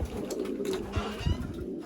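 Young racing pigeons murmur low coos inside a loft at midnight on race day, soft and near with a few slight thumps and rustles.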